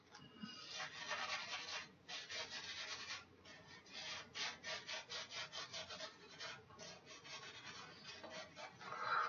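A handmade straight razor shaves off a year-long beard, making rhythmic close rasping strokes that come in repeated pulses, loud and right at the ear, with no voices.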